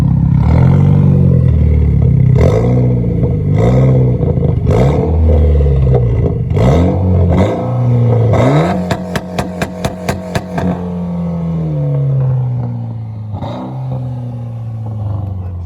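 A VW GTI with an Integrated Engineering stage 1 dyno tune revs repeatedly and loudly up close, then fires a rapid string of sharp two-step launch-control pops and crackles before settling into a lower idle.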